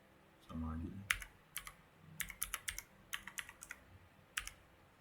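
Typing a password on a computer keyboard: quiet, close key clicks in short irregular bursts, following a brief murmur of a voice at the start.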